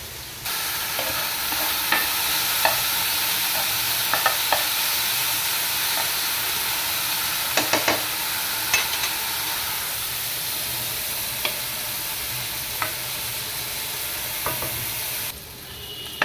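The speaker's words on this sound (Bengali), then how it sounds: "আর এইদিকে দেখতে পাচ্ছেন আমার আলুগুলো ফ্রাই হচ্ছে" Boiled potatoes fry in a pan with a constant loud hiss and sizzle, broken by scattered sharp clicks and scrapes from stirring, and no one speaks.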